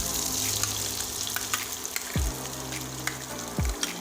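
Ground masala paste sizzling in a hot pan for drumstick (moringa) curry, a steady loud frying hiss with two low thuds of something dropping or stirring, close up with no talk.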